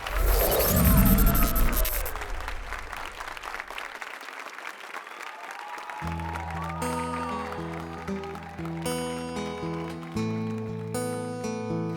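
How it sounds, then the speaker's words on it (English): A talent show audience bursts into loud applause and cheering for a performer, lasting about two seconds before fading as music begins. "So let's give a big round of applause for Angela Saini!"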